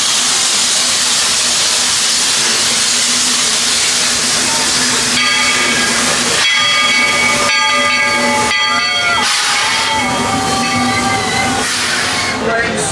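A Disney World steam train hisses loudly and continuously, then sounds its whistle in several bursts partway through, close by and dominant over faint background voices.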